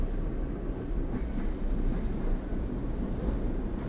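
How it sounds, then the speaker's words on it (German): A Russian train in a train simulation game rolls into a station, giving a low, steady rumble of wheels on rails with faint rhythmic clatter and no voices. "Ich glaube, wir fahren beim Bahnhof ein."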